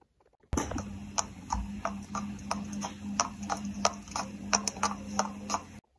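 Horse hooves clop on a stable floor in an irregular walking rhythm, close and distinct, with no talk over them.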